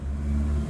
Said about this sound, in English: when his car pulls into the parking lot, he nearly knocks over a trash bin